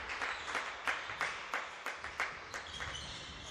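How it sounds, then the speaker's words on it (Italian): Applause from the Merano team bench at a handball match, scattered claps and sharp slaps with rhythmic bursts echoing in a sports hall, moderately near. "Applaude la panchina del Merano."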